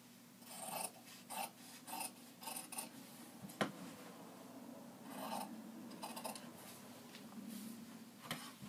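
Scissors cutting waste fabric off a tailored valance: a series of quiet, crisp rasping snips in irregular bursts, close by, with one sharp click midway and no talking.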